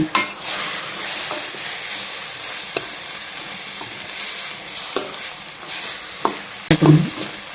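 Pumpkin and vegetables frying in a pan for an eggplant and dried fish curry, a continuous close sizzle with repeated scrapes and stirring knocks of a spoon against the pan.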